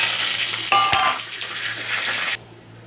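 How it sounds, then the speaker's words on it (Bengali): Cumin seeds, bay leaf and dried chili sizzle loudly in hot oil in a kadai, with a brief metallic clink of a stirring utensil partway through before the hiss abruptly drops off. "ফোড়নে আমি জিরে, তেজপাতা আর শুকনো লঙ্কা ফোড়ন দিচ্ছি।"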